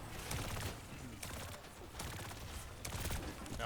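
Juno's missiles fire in the Overwatch video game as a rapid volley of repeated bursty blasts and mechanical clatter, loud and busy throughout.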